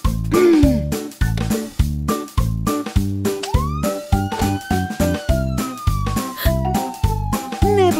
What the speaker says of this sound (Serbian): Sirena pokazuje lošim ljudima da sam stigla.